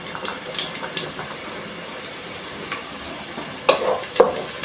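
Onion frying in a pan on the stove, a steady close sizzle with a few clinks and scrapes of stirring near the end, no talking.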